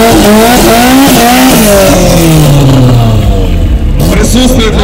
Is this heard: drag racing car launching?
yes